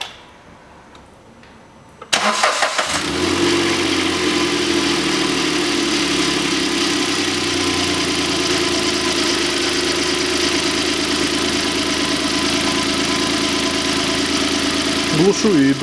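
A 2012 Kia Picanto 1.0 engine starts after a quiet moment and settles into a steady, close idle with a faint rhythmic ticking, running loud and even with speech heard over it.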